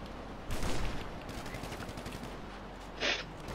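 Gunfire in the video game GTA during the Franklin and Lamar mission: a loud burst of shots near the start, then a second short burst later, over constant game background noise.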